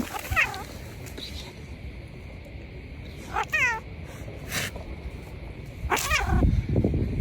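A cat meows several times in a row, short rising-and-falling cries spaced through the stretch, fairly close, over steady room noise with a low rustle near the end.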